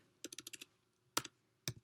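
A command is typed on a computer keyboard: a quick run of six crisp key clicks, then a pause and a few separate, sharper keystrokes, close and quiet.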